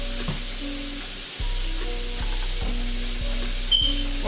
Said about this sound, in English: Why my oil come in like that? Like, yeah, sizzle it up.